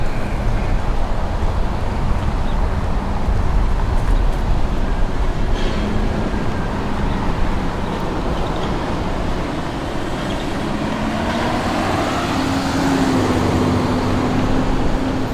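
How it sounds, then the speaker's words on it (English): Cars pass one after another on a street in Kōloa Plantation Town on Kauaʻi, producing a constant loud road roar with swelling passes heard close by. "It's also quite noisy walking in the street because cars are coming every few seconds."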